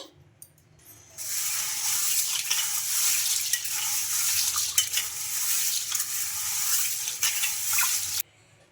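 Mung beans swished and rinsed in water in a bowl: a steady close rush of sloshing water and grainy rattle that starts abruptly, runs for about seven seconds and cuts off.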